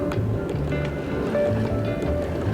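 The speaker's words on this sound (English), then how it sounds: "the wind is coming in from the north, so it's a north wind" Steady wind and sloshing waves surround a sailboat beating upwind into a north wind toward Catalina, a continuous rushing wash with a low hull rumble underneath.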